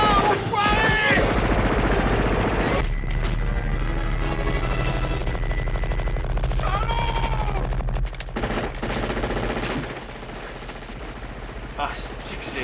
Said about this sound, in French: Ça tire partout!